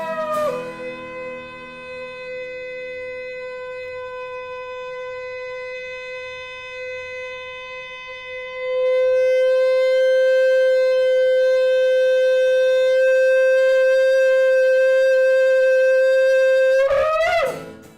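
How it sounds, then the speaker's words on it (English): A shofar sounds one long, unbroken blast at a children's Jewish New Year service, a steady horn tone rich in overtones that grows louder halfway through and bends sharply upward in pitch at the very end. "I like to hear that shofar blast, sometimes slow and sometimes fast."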